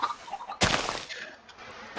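A chicken in Minecraft gives a short burst of clucking, loud and close, followed by quieter scattered sounds and a sharp noise at the very end.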